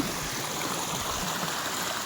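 Cold stream water flows steadily over rocks beneath hills at a hidden beauty spot in Kanyakumari, a constant close rushing wash with no pauses and no voices.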